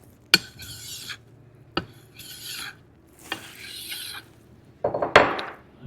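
Drawknife edge being honed with a sharpening stone, worked in one direction: four separate raspy strokes, each with a sharp onset and a hissy scrape, close and fairly quiet, with a brief busier scrape at the end.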